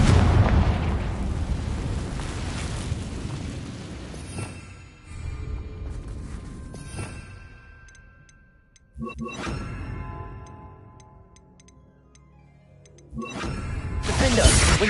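Fire-spell explosions from the Hogwarts Legacy video game: a long roaring blast that rumbles and fades, then two more sharp bursts with ringing, sparkly decays, loud and close with no talk over them.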